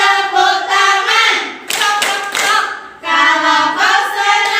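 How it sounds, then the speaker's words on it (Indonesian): Hands clap in a steady rhythm along with the children's song "Kalau kau senang hati tepuk tangan", loud and close, with sung voices over the claps. "Kalau kau senang hati tepuk tangan."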